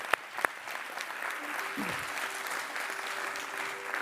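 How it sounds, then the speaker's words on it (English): Steady applause from an audience at a youth event honouring a featured speaker, a full continuous round of clapping with a couple of sharp louder claps near the start and faint voices mixed underneath. "Please give her a round of applause"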